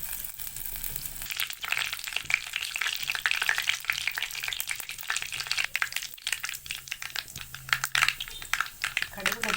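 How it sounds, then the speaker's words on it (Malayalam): Mustard seeds splutter in hot oil in a pan, a dense, fairly quiet crackle of rapid, irregular pops and hissing that continues throughout. "ഓയിൽ ഒഴിച്ചു കൊടുത്തു ആവശ്യത്തിനുള്ള കടുകിട്ട് കൊടുക്കാം"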